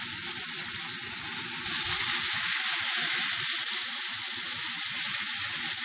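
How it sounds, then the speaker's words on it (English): Steaks with garlic sizzle steadily in a hot pan over medium-high heat, a loud, continuous crackling hiss that holds evenly throughout with no talking. "You want to hear the sizzling of it."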